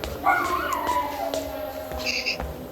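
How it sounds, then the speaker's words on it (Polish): A small Yorkshire terrier howls outside a window, a thin, wavering, drawn-out cry that rises and falls, heard at a distance against a steady background hum. "Może pies mi krzyczy za oknem."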